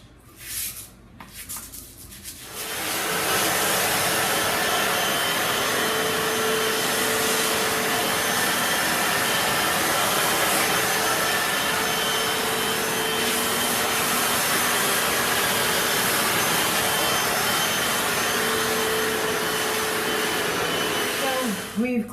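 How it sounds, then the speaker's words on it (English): A Hoover tile cleaner starts up after a few seconds of brief scraping, then runs as a loud, steady motorized whine and rush while passing over tile grout. "We've gone over with the Hoover tile cleaner, which is really just a delivery system for water."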